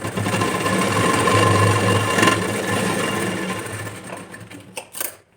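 A sewing machine stitches a blouse seam up close with a steady rapid mechanical whir that runs for several seconds, then slows and stops with a couple of short clicks.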